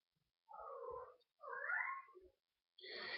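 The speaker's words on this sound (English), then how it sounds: "I don't know why my cats are acting so rambunctious right now." House cats cry out in short, loud meows and yowls, three separate calls with pauses between them, close by, with no talking.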